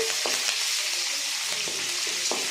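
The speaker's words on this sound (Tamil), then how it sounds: "இப்போ நம்ம பச்சை மிளகா வச்சுருந்தோம் இல்லைங்களா, அந்த பச்சை மிளகாய் உள்ளே போட போகிறோம்." Green chillies drop into hot oil and sizzle briskly, with a few stirring scrapes and spits close by in the pan and no talking.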